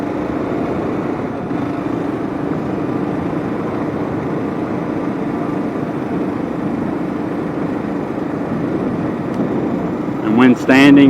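Kawasaki KLR650 motorcycle running fast, around 55 to 60, on a dirt road, with a steady loud engine drone and wind rush throughout and a brief voice breaking in near the end.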